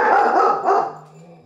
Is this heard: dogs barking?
yes